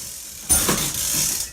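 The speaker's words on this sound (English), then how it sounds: "There's also a cash register here." An old cash register sounds as its mechanism is worked, a sudden mechanical clatter with ratcheting clicks that starts after a short silence and runs on as a steady close whirring.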